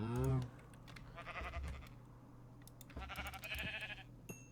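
Sheep bleats from the video game Minecraft ring out repeatedly, a few short wavering calls over a steady low hum and light keyboard clicking.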